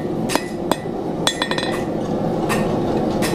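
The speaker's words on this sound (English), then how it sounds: "hammering off the side of the anvil." Metal fork tines struck against the side of a steel anvil while being bent, giving several sharp, ringing clinks at irregular intervals over a steady background hum.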